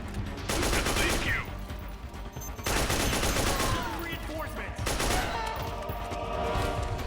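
Sustained gunfire in Metal Gear Solid 4, with dense bursts of automatic weapon fire and explosions arriving in three long loud waves with brief gaps between them.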